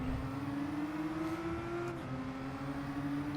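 A single race car engine in the video game Gran Turismo 7 drones past with a steady pitch, sliding slightly up then down, fairly quiet throughout with no voices.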